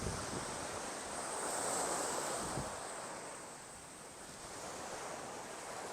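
Ocean surf rolling in along the oceanfront at Sunny Isles Beach, a steady broadband wash of breaking waves with some wind over the microphone, moderately loud and continuous with no voices.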